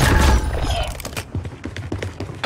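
Gunfire in the video game Modern Warfare 3 starts with a heavy burst, then rapid, close shots and thuds follow in an uneven rhythm.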